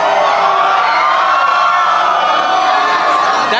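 A large crowd at a concert in Texas cheers and shouts continuously, a loud dense roar of voices holding steady throughout with no pauses.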